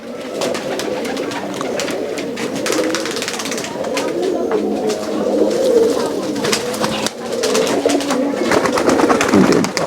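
Ablak Sweeter flying pigeons, a crested pair, coo steadily in a loft, many overlapping throaty calls forming a continuous close-up chorus that swells slightly toward the end.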